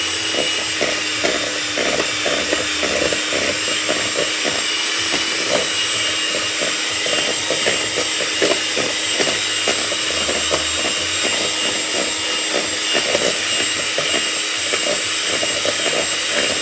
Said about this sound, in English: So I'm getting my mixer again